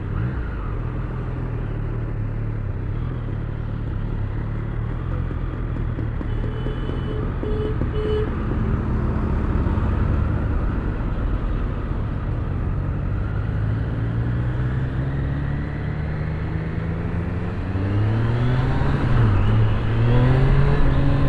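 A Triumph Street Triple 765RS motorcycle ridden on the road in road mode, a loud continuous engine drone with rising and falling revs through gear changes, heavy wind rumble throughout, no talking.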